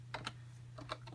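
Quick bursts of typing on a computer keyboard, a pair of key clicks, a pause, then a few more taps, faint and close over a steady low electrical hum.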